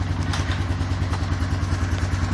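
Honda Foreman 450 ATV, with no baffle or spark arrestor, running close by with a steady rapid mid-pitched engine chug and clattering mechanical noise while it shifts gears.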